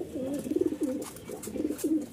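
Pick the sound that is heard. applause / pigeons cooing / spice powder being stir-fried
pigeons cooing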